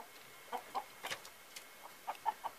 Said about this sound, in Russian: Тут куры с черным выходом на улицу.